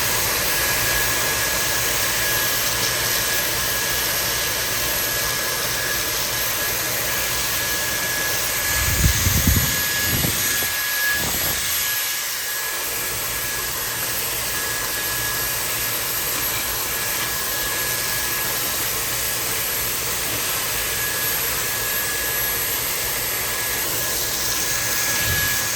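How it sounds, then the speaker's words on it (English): A Dyson vacuum cleaner roars steadily up close while cleaning the dirty fan of a Rinnai RL75 water heater, a loud continuous whine with a brief surge of rattling and sucking partway through. "See if I can vacuum most of this stuff out."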